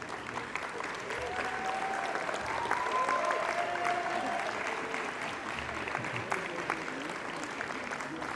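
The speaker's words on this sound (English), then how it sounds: "A big round of applause." Sustained applause fills a graduation ceremony hall as family and friends stand for the graduating class, a dense, even wash of clapping with faint voices and cheers mixed in throughout.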